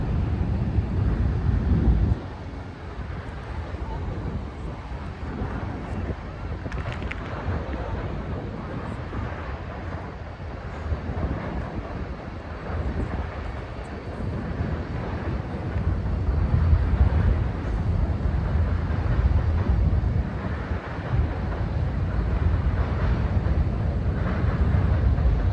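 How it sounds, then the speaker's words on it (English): A train rumbles past overhead, a steady low roar with wind buffeting the microphone that holds for the whole stretch without any voices. "show you that train going over."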